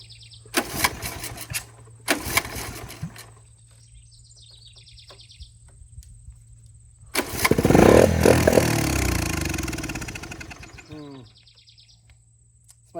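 A three-wheeler engine fitted with a new spark plug is pulled over in two short bursts, then catches and runs roughly for a few seconds before dying away, with birds chirping faintly in the background.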